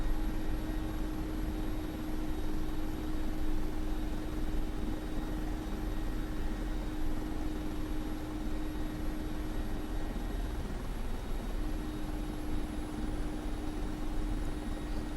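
A Mi-24P Hind attack helicopter in a DCS flight simulation settling in to land, its turbine and rotor giving a steady, loud, close drone with a constant hum throughout, no voices.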